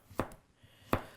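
Two crisp, separate chops of a Sabol Brothers custom kitchen knife through food on a board, close and fairly quiet, spaced under a second apart with a softer tap between.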